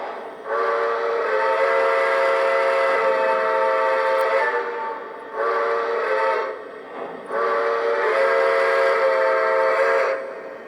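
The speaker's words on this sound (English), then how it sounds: "the New York Central whistle." Lionel model train sounding its New York Central steam whistle in three long, chorded blasts separated by short gaps, loud and close with a rich multi-tone pitch and no talking.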